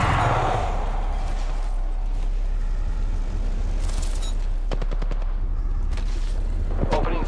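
A video game firefight with dense gunfire and heavy booms rumbling continuously, a quick burst of sharp shots near the end, all loud and close without clear speech.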